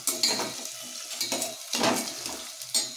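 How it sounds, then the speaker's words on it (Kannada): Onions frying in a pan, with spoon scrapes and clinks of metal against the pan in several short bursts over a soft, steady sizzle, fairly close and with no voices. "ಫ್ರೈ ಆಗ್ತಾ ಇದೆ ಆನಿಯನ್।"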